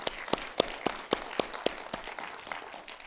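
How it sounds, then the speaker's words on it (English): Sparse clapping after a presentation at an Arctic science diplomacy conference, a few crisp, evenly spaced hand claps over a soft room background, fading after a few seconds. "It's allowed to clap after each of the presentations."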